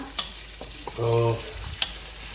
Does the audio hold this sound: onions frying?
yes